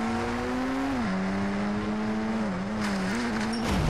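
A car engine in the mobile driving game Indian Bike Driving 3D drones loudly and continuously, its pitch dipping and rising slightly as the virtual car shifts and accelerates, alone with no talk.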